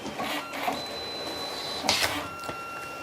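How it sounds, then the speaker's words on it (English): A Mitsubishi photo printer whirs and clicks as it feeds and cuts paper off its roll, a close mechanical motor hum with a couple of sharper cutter snaps and whines. "This is now going to cut 3 pieces of paper off the roll to line itself up"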